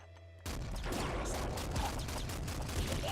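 Rapid heavy pistol fire in the twin-stick shooter Nuclear Throne, a loud dense burst of gunshots that starts abruptly and keeps going almost without a break, close and alone with no talk.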